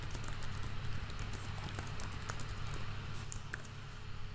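Keys tapped on a computer keyboard while a forum post is written, a soft irregular patter of clicks over a steady low hum, fairly quiet and close.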